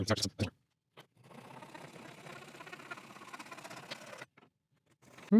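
A Butterfly Japanese pull saw cutting through pine in a run of quick, rhythmic rasping strokes for about three seconds, framed by brief knocks and silence before and after.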